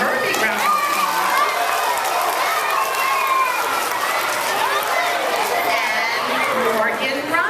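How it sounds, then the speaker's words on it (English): An audience claps through a steady round of applause as guests are introduced, with lively chatter and voices mixed in among the crowd. "Let's give her a big round of applause."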